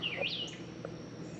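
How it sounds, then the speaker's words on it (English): Birdsong on a quiet rural homestead in the morning: a few clear, high chirps and short whistled calls, moderately near, over a steady low air conditioner hum. "Bird song and air conditioner noise."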